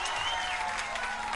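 Studio audience applause on a Spanish-language Saturday variety show, a steady wash of many hands clapping that fills the whole short stretch at even strength, with a faint sustained musical tone underneath.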